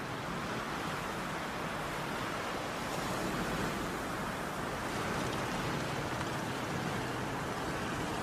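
Stormy sea at the Fangchenggang coast during a typhoon, a continuous roar of heavy waves, wind and rain blending into a loud, unbroken wash of noise with no voices.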